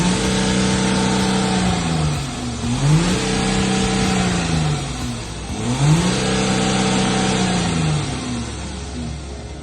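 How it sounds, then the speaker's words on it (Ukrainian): A Volkswagen car engine idles steadily during hydrogen cleaning, then is revved twice, each rev climbing in pitch and settling back to idle, loud and close with no talking. "Бо кожні 10 хвилин треба газувати на протязі півтори години."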